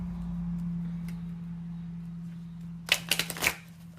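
A deck of tarot cards is riffled and shuffled in a few quick bursts of crisp flapping near the end, close up, over a steady low electrical hum.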